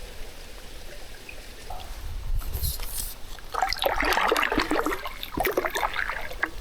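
Water trickling and dribbling beneath rock rubble at a glacier, a soft close babble that swells midway into a busier, splashy stream, with a light breeze and no voices.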